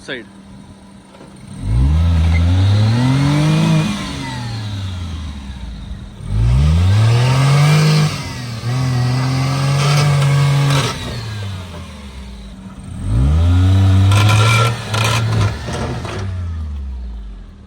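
A Maruti 800 car engine revs hard in three loud bursts while off-roading, each rising and falling in pitch, with lower rumbling between surges; close and prominent.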